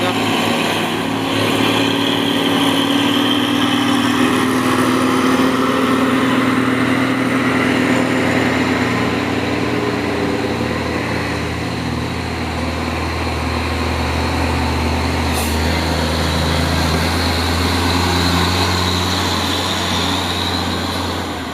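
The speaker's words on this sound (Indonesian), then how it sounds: "Ups, truk Fuso overload kayaknya." An overloaded Fuso truck labours up a hill with a loud, steady diesel drone and low rumble, its engine note shifting slightly as it climbs, with other traffic in the background.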